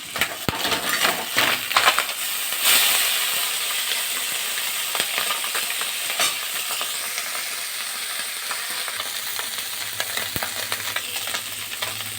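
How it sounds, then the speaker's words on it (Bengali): Small fish sizzle in hot oil in a wok while being turned over, with a steady hiss broken by sharp clinks and scrapes of a spatula against the pan. "মাছগুলো ভালো করে উল্টে পাল্টে ভেজে নিতে হবে"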